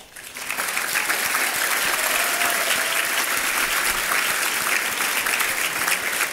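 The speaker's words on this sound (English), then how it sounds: "So please give a round of applause for our newest cohort of fellows." An audience at a gala breaks into sustained applause, dense steady clapping that swells quickly and continues without letup.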